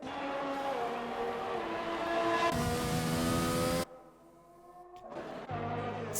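A race car in a sim racing practice session at a Netherlands track roars past: a loud, rising engine whine that cuts off abruptly, then a quieter car comes in near the end, with no talk.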